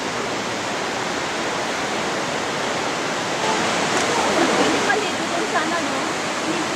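A waterfall roars in a steady broadband rush, close and unbroken throughout, with a few faint voices in the background at times.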